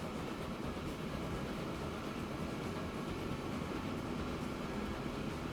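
A train in the Transport Fever 2 video game climbs a hill and slows, giving a dense, steady rumble and drone that holds without break, loud and close.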